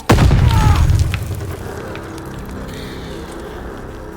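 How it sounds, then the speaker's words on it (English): Grenade explosion in the Call of Duty: Vanguard shooter, a single loud close boom with a sharp onset that rumbles and fades into lingering battlefield ambience. "Grenade! Get down!"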